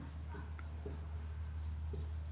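Pen writing numbers by hand while working through a class 6 maths approximation exercise, a faint, close scratchy stroking that runs steadily through the whole short stretch with a low hum underneath.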